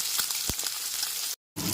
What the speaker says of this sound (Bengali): হাই ফ্লেমে মাছের পিসগুলো ভালো করে ভেজে নিয়ে নিতে হবে